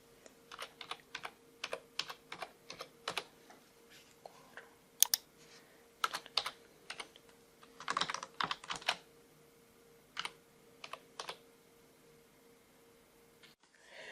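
A password is typed on a computer keyboard as quiet, close keystrokes in irregular bursts and pauses, with soft clicks and a faint background hum.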